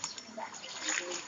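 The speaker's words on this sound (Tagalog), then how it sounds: "Ganda ng dagat." Sea water at Caingget beach in Tagbilaran City, Bohol, splashes and trickles softly in a brief, faint burst.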